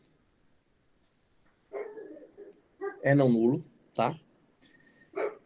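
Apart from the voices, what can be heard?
dog barking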